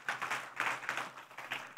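A church congregation clapping for the glory of God, a rapid run of sharp, fairly quiet claps in an uneven rhythm, heard on their own.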